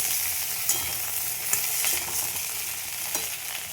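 Steady hissing sizzle of thin eggplant strips frying in a pan, close and loud, with occasional soft clicks of stirring and no speech.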